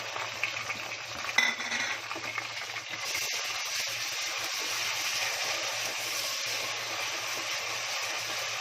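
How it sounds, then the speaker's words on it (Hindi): Onion and ginger-garlic paste go into hot oil in a pan for a Konkani wedding-style dish, giving a steady soft sizzle with a few clinks and scrapes of a stirring spoon. "फिर ये डाल रही हूँ प्याज। ये अदरक लहसुन का पेस्ट पूरा सब डाल रही हूँ।"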